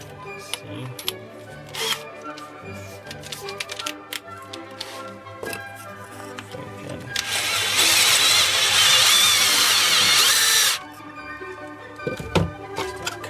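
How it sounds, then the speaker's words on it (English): A tapered cone drill bit whirs steadily for about three seconds while repairing a decorative glass part, surrounded by scattered clicks, taps and handling noises of workshop tools. "Tapered cone drill."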